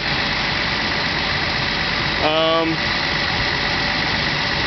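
A Datsun 280Z engine idles steadily and close by, a constant low hum that is running weak, with a short tonal whine partway through.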